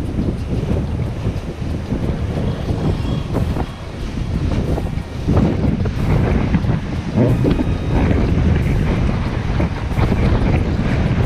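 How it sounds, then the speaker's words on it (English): Cruise ship Noordam gliding beneath the Sydney Harbour Bridge, heard as steady rumbling water and engine wash with constant wind buffeting the microphone throughout, no voices. "Noordam going under the Harbour Bridge December 2018"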